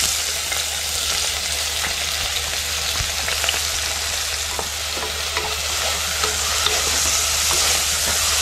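Onion goes into garlic frying in hot oil in a pan for a spiced vegetable curry, giving a steady, loud close sizzle with light stirring scrapes and small taps, without talk.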